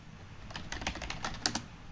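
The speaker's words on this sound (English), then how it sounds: "We'll type failover." A short burst of quick keystrokes on a computer keyboard while entering a command on a Cisco ASA firewall setup, about a dozen close, crisp clicks with one sharper tap near the end.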